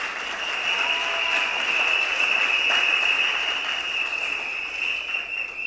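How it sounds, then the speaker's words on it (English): A crowd at a slate launch event in a hall gives sustained, even applause for a set of candidates, the clapping dense and steady throughout with a faint tonal hum underneath. "A round of applause, friends, for this set of candidates we presented to you."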